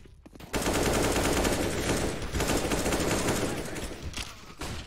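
Sustained automatic gunfire rattles through a competitive round of CS:GO, loud and dense rapid bursts that continue for several seconds after a short quieter start.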